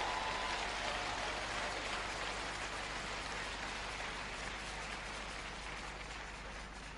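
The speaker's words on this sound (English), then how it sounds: "Clap right there loud." A large congregation claps loudly during a gospel sermon, a thick, continuous roar of many hands like heavy rain, sustained and slowly easing off, with no voices over it.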